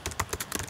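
Rapid keystrokes on a computer keyboard while a resume is being edited, a quick burst of several close, crisp clicks.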